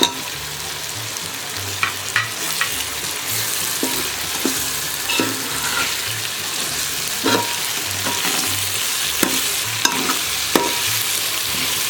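Mango pieces go into a simmering Nellore fish curry, with steady sizzling and bubbling and a few soft stirring scrapes and clicks of a spoon against the pot throughout.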